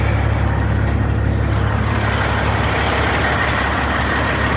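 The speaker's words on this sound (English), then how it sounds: "It's a little difficult blindsiding a truck like this into a dark spot like this" Truck engine idling with a low steady rumble while the rig is backed blind into a dark parking spot, close and continuous, with a few faint high clicks or hiss bursts over the drone and no talk.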